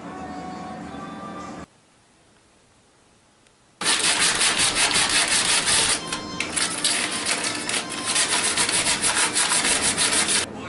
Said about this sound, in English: I did most of the 80 grit sanding.